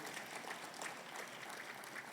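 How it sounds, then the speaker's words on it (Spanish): A church congregation applauds warmly during a Spanish-language sermon, a brief, fairly quiet burst of steady clapping heard on its own. "Dele un caluroso aplauso."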